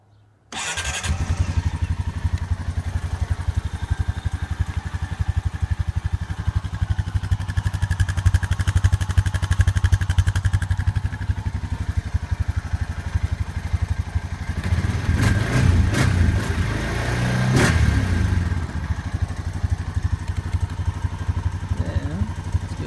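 2016 Honda Rancher 420 4x4 ATV with DCT starting up, catching almost at once and then running at a steady close idle, with a brief burst of revving and clatter midway.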